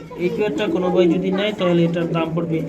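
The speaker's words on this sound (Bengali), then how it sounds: "পনেরোশো টাকার মধ্যে লুটন কবুতর পেয়ে যাচ্ছেন" Lotan pigeons coo in repeated throaty rolls at a pigeon sale, close and steady, with people talking over and between the calls.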